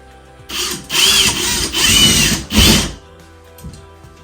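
A power drill drives screws into wall anchors to mount a floating shelf, three loud close whirring bursts of about a second each with short pauses between, then quiet handling at the end.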